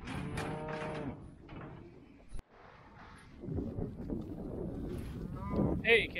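Cattle moo loudly nearby, a long lowing call followed by more bellows over gusty outdoor wind.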